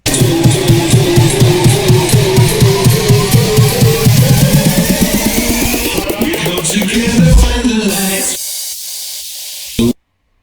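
Dense electronic music with rising synth sweeps and vocals climbing in pitch, building loudly before cutting off abruptly near the end.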